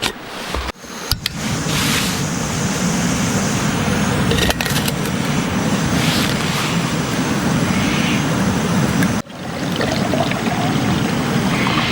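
Jetboil camping stove burning with a steady broadband roar at a campsite in Lerderderg State Park, close and continuous, with two short interruptions where the flame sputters or is adjusted.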